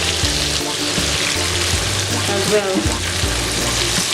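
Meatballs sizzle in a pan in a steady, close frying hiss with stirring scrapes, while a person speaks briefly over it.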